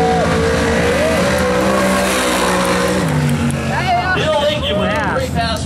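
A Chevrolet Nova drag car launching on a quarter-mile pass at a drag strip event, a loud roaring engine climbing through gear changes with a rising whine toward the end, while an announcer talks over it.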